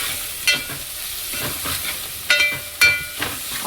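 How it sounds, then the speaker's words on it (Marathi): Tomatoes sauté in a hot pan with a soft continuous sizzle, broken by a few sharp spatula scrapes and clinks as they are stirred. "आणि आता परतून घेऊया आपण."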